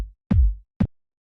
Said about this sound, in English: I chose a kick that I had that was just like a really nice, beefy, like, just thick, huge kick